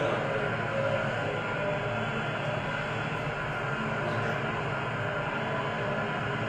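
Industrial packaging lines with an overhead conveyor running, a dense, continuous mechanical roar and hum that stays level throughout, with no talk.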